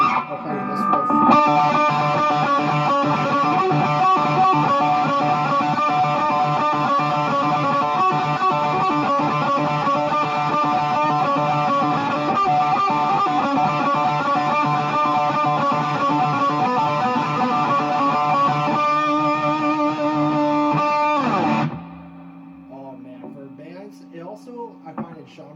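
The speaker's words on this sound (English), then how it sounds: "getting the post gain up there, the grunge tones that I was after. I'll play this riff." An electric guitar riff played through a Peavey 6505 MH amp with high post gain and a distorted grunge tone, sustained and loud for about twenty seconds before cutting off to quieter picking.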